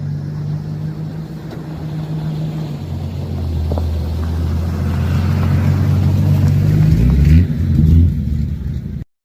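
A Jeep Cherokee XJ engine starts up near the microphone after a relay fault is repaired. A steady idle rumble rises slowly, revs briefly near the end, then cuts off abruptly.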